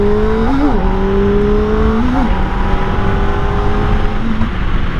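A 2025 Kawasaki Ninja ZX-4RR 400cc engine drones steadily while riding, with a smooth, continuous note that briefly rises and dips as gears change, loud and close, with no talking.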